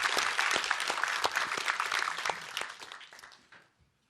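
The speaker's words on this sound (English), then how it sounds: "give him a round of applause." Audience applause at a product announcement event, dense clapping that fills the room and then gradually thins and fades out over a few seconds.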